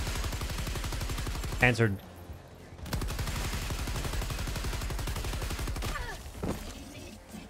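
Sustained machine gun fire in Helldivers 2, rapid evenly spaced shots loud and close as bullets hit the underside of a Strider, broken by a brief pause before the burst resumes; a voice speaks briefly over the gunfire.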